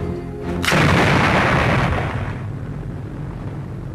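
A bomb explosion sounds as one sudden heavy boom, followed by a broad roaring rumble that slowly fades over a few seconds, loud and alone.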